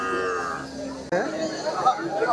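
Cattle low at a busy rural cattle market where heifers and calves are being sold. A long, loud moo is followed by another deep call, over the steady murmur of the crowd.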